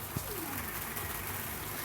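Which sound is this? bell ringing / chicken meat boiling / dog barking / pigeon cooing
pigeon cooing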